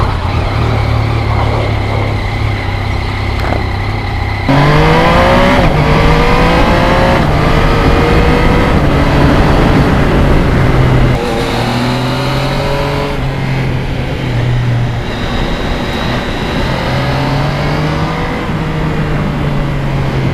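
A Suzuki GS1100E motorcycle is ridden out on a road, its engine droning loudly up close and rising in pitch through repeated gear changes, with occasional wind rush.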